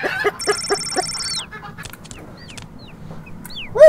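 A chicken in a video game gives a short string of quick, close clucks, followed by a thin steady electronic tone and scattered chirps over a low ambient background.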